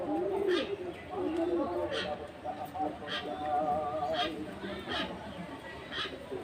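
A baby pigeon coos softly in brief repeated bursts while its wing is being taped, heard close and low under steady human speech.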